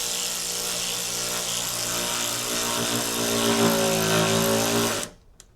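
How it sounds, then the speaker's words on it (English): A small electric wrench drives a screw through a Toyota Tundra tailgate panel, a loud, steady motor whine that holds for about five seconds before stopping abruptly. "get my little electric wrench"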